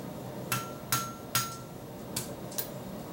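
A hammer strikes a small metal key fob being forged, five sharp ringing blows spaced unevenly, close and clear with nothing else around them.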